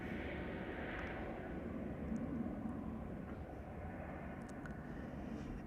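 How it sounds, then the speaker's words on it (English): A KLM Airbus A321neo airliner at Amsterdam Schiphol gives a steady, moderately distant engine roar that holds evenly throughout, with no talk over it. "More A321 Neos from the KLM."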